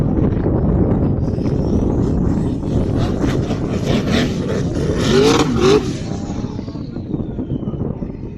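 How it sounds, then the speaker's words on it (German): A Porsche Panamera does a burnout at the Nürburgring, its engine roaring loud and close for several seconds while tires screech and scrape, with a harsh rising squeal near the end before the roar eases off. "Porsche Panamera burnout."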